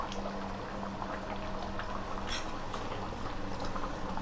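Fish curry bubbling in a pot on the stove, a steady close simmering and gurgling that runs unbroken the whole time with no voices over it.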